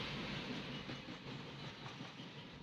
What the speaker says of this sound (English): Okay, so the train is coming.